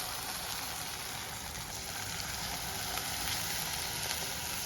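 A pot of curry simmers steadily with a continuous bubbling hiss that stays at an even level throughout. No talking.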